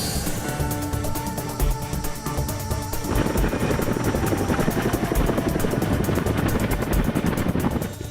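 A military medical evacuation helicopter in Afghanistan, its rotor thumping in a rapid steady beat with a loud turbine whine, close and continuous, growing fuller partway through, no voices.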